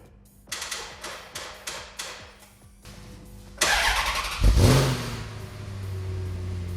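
A Maserati GT 4200 engine starts with a series of sharp ticking cranks, then catches and revs loudly through a throaty sport exhaust with welded tips before settling into a steady rumbling idle.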